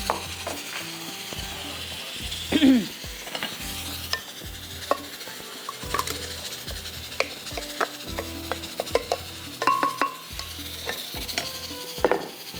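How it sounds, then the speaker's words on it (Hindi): Ginger fries in a pan with a soft sizzle, while a utensil scrapes and stirs, knocking now and then against the metal. "जब तक अदरक हमारी फ्राई हो रही है।"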